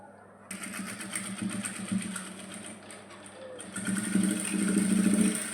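A sewing machine stitches the bodice seam of a maxi dress, with a quiet, steady mechanical whir and rapid needle rattle that grows slightly louder after a brief slowdown midway.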